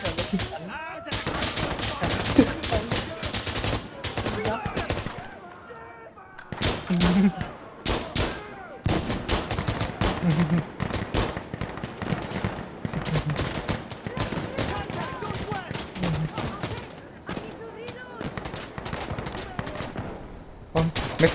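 Rapid bursts of gunfire in the tactical shooter Insurgency: Sandstorm during a night hardcore checkpoint match, loud close volleys and automatic fire with short pauses, a voice talking between shots.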